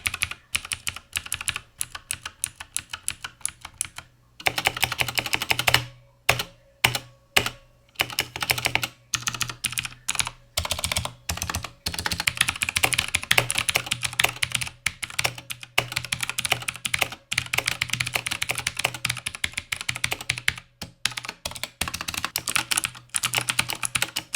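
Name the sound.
mechanical keyboard clicky blue switches typing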